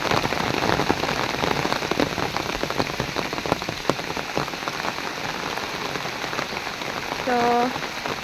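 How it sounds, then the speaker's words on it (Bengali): Heavy rain pounds down on surfaces nearby in a dense, unbroken patter that holds steady throughout, with a brief vocal sound near the end. "দেখেন কি পরিমাণ বৃষ্টি, সকাল ভোরের থেকেই হচ্ছে।"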